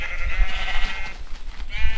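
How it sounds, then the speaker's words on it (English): Sheep in the video game Minecraft bleating, a nasal wavering baa over low rumbling game background, fairly clear and near. "Why are there so many white sheep?"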